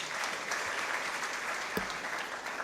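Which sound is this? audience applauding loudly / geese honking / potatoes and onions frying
audience applauding loudly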